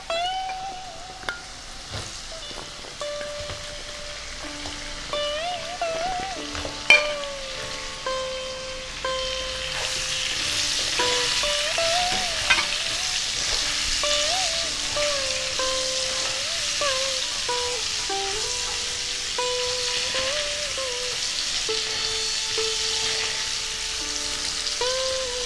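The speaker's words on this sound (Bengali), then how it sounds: "আলুটা রং ধরতে শুরু করে দিয়েছে, এই অবস্থায় আমি কুমড়োগুলো দিয়ে দেব।" Potato and pumpkin frying in a pan, a steady crackling sizzle that grows louder midway, heard close under soft background music.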